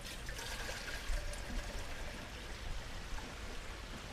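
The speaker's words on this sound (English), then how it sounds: "fill up your pot." Steady rushing water pours into a cooking pot, a continuous hissing splash at moderate distance with no talking.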